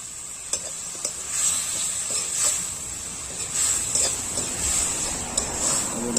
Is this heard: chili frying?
yes